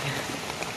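Rain pouring down during snake trapping outdoors, a brief steady hiss of drops pattering on surfaces, fairly close and uniform.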